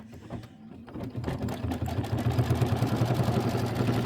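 An embroidery machine stitches a satin outline on a quilted beach bag block, starting up and settling into a loud, fast, steady rhythmic hammering that continues throughout.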